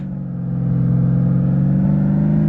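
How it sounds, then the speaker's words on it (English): Simulated car engine in an Unreal Engine 5 vehicle demo easing off the throttle, a steady mid-pitched drone that swells slightly and then shifts down to a lower note. "Speed drops to match the corner and the engine note falls with it."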